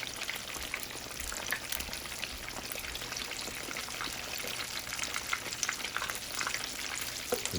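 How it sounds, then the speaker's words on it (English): Fish sizzling and crackling in hot frying oil, a dense continuous spatter with faint sporadic pops and no talking. "Once it starts to fry, it will stay."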